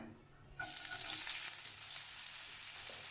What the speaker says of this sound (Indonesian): Kita akan goreng tipis ya, jadi nggak dengan minyak banyak tapi dengan minyak secukupnya.